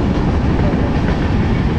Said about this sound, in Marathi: जरा या ट्रेनला जाऊ दे.